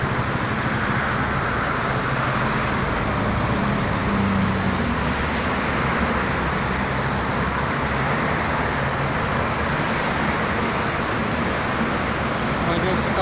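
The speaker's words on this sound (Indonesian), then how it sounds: "Banyak sekali bis-bis angkatan malam nih lintas." Traffic roars steadily on the Jakarta–Cikampek toll road at night, with buses passing in a constant dense wash of road noise. Someone talks throughout over it.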